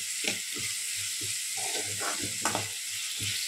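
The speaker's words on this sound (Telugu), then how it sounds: "వీటిని ఫ్రై చేసుకోవాలి." Ingredients for godhuma rava upma fry in a pan, giving a steady sizzle with repeated soft stirring scrapes and thumps in an irregular rhythm, close by and with no talk.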